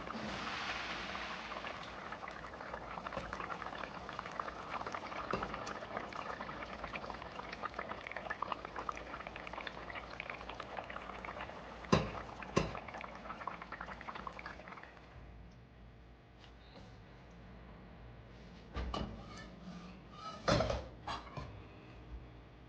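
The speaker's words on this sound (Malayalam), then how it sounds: "നല്ലതായിട്ട് തിളച്ചിട്ടുണ്ട്." Fish curry with coconut milk boiling in a pot, a continuous close bubbling simmer with a few sharp clinks and knocks of utensils toward the end.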